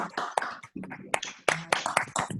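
Scattered clapping from online meeting participants over open microphones, uneven bursts of hand claps and taps cutting in and out, with brief voices mixed in.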